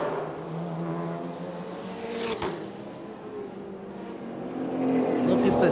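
Race cars on a street circuit at Bangsaen in Thailand, a Nissan GT-R chasing a Toyota AE86 with a modified engine, steady overlapping engine roar with a brief sharp burst midway and a louder swell near the end.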